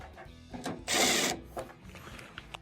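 Phillips machine screws being driven back into plastic parts of a GE washer's drain pump assembly, with a short burst of whirring driver noise amid soft clicks and handling taps, close and fairly quiet.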